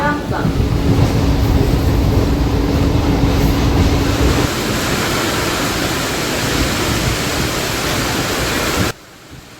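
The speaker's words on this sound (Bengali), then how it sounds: "অফিস থেকে বেরিয়ে এখন পৌঁছে গেছি গোঘাট স্টেশনে" A local train at Goghat railway station makes a loud, close, rumbling roar that eases after a few seconds and then cuts off sharply near the end.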